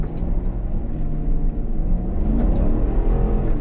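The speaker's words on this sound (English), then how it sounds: "Launching in 3, 2," A GMC Yukon Denali Ultimate luxury SUV launching from a standstill, its engine note rising steadily into a deep, continuous acceleration rumble heard from inside the cabin with no talk over it.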